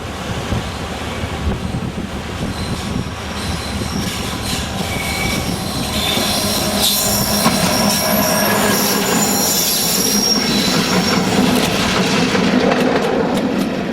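A charter train hauled by locomotive 59103 rolls past close by, a loud sustained rush of wheels on rail with shrill flange squeal building through the middle and continuing to the end.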